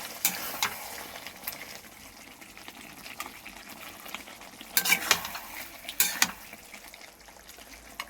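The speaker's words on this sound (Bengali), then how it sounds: "রাইস আর চিকেন কষা হচ্ছে।" Rice and chicken are stirred and fried in a pan, with a low sizzle under repeated scraping strokes and a few louder clattering stirs near the end; no one speaks.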